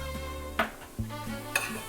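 Onions and minced garlic are stirred in a pot for chili, a spoon scraping and clinking against the metal in a few distinct knocks, close and fairly quiet with a faint sizzle beneath.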